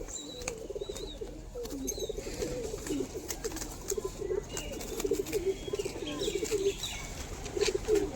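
Madras Giribaj pigeons cooing softly and repeatedly, a steady low murmur of overlapping coos with a few faint chirps, fairly close amid light background noise.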